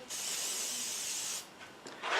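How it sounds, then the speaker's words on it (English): Edible food glaze sprayed onto a sugar dragonfly cake decoration: a close, steady aerosol hiss lasting over a second, then a pause and a second short spray burst. "So I'm going to take this off screen a second just to spray it, because obviously I don't want to spray my own work surface."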